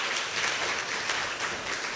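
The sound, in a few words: congregation applause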